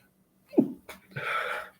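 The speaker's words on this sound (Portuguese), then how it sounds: "Vontade de espirrar, perdão." A single short sneeze bursts out close to the microphone after a quick breath in, then fades into a breathy exhale during a quiet lecture.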